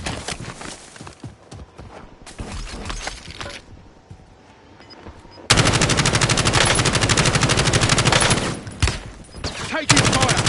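Warzone video game gunfire comes in dense, loud automatic bursts, with a quieter scattered stretch first and then sustained rapid firing that stops briefly and resumes. No one speaks.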